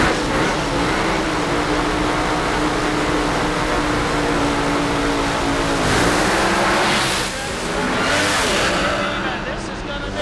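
Frank Manzo's drag racing car roaring down the strip at 260 mph during a sportsman finals run in Chicago, a loud sustained engine drone with shifting pitch under continuous excited commentary.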